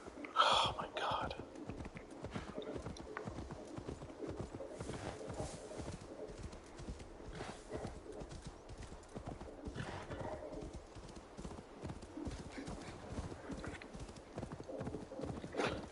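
Horse hooves clip-clop steadily in Assassin's Creed Valhalla, a quiet continuous trotting rhythm with a brief whinny near the start and soft background game ambience.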